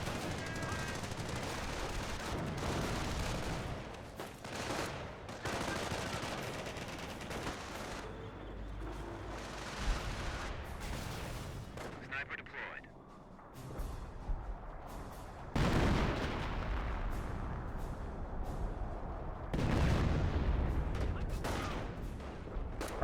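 Anti-tank gun and artillery fire in a Company of Heroes battle, with repeated sharp gunshot bursts and heavy booms over a dense, continuous din of combat, loud and close, with some voice faintly mixed in.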